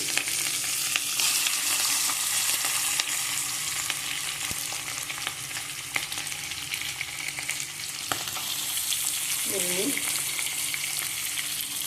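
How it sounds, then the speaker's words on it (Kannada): Onion frying in a pan with green chillies, giving a steady, close sizzle that runs throughout, with occasional stirring scrapes and a brief tonal clink near the end. "ಫ್ರೈ ಮಾಡುವ. ಅಲ್ಲಿಗೆ ಒಂದು ಈರುಳ್ಳಿ"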